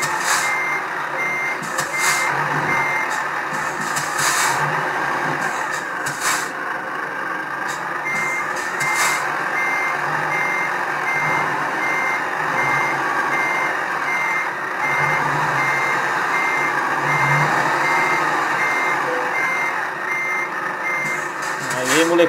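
Truck in the Truck Simulator 2 video game reversing to park its trailer, a steady series of loud, evenly spaced reversing beeps over a continuous engine drone, with occasional brief hisses.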